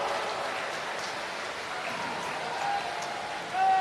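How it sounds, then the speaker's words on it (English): Applause from spectators at a national swimming championship pool, a soft, diffuse patter of clapping at a distance in a reverberant hall, with a voice on the public address. "Let's give him a round of applause as well."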